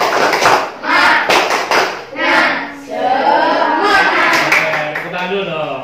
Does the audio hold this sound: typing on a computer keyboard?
no